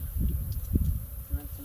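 Bees swarm around a hive inside a baobab tree, a low, dense buzzing hum that holds steady near the listener with brief swells, and faint human sounds mixed in.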